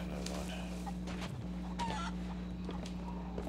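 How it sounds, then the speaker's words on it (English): A chicken clucks in the pirate game Sea of Thieves, several short bursts of clucks over a low steady hum with faint game sounds around them. "Fuck off, chicken."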